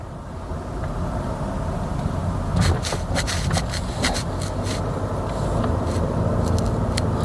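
Honda Fit on Yokohama tyres rolling over speed bumps, a steady road and cabin rumble with a cluster of soft thumps and rattles midway as the wheels cross the bumps.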